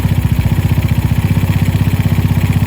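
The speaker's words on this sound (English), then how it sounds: "I'm gonna let it idle about there. So that's idling about 1500." A Venom X22r motorcycle engine with a Nibbi carburetor idles steadily at about 1500 rpm nearby with a rapid, even, throbbing pulse, loud and continuous.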